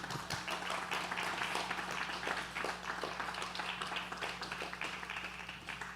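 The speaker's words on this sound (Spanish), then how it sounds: "Dale un aplauso, sí." Church congregation applauding after a sermon's closing prayer, a steady, distant wash of many hands clapping that holds for several seconds over a faint low hum.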